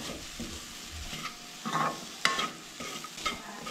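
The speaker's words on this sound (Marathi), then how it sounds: "सोय जी आसा न्हय ती बरी तळसळून घेवंक जाय, चड करपोवंक जायना, हलकीशी अशी न्हय भाजून घेवंक जाय" Grated coconut being lightly roasted and stirred in a pan, with a soft dry sizzle and the scrape of a spoon in a few brief bursts, fairly quiet and close.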